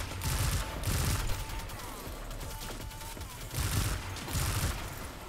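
Hand cannon pistol fire in the PC shooter Destiny 2 comes in loud bursts of rapid shots, several clustered volleys separated by brief gaps with mechanical clatter between, close and punchy.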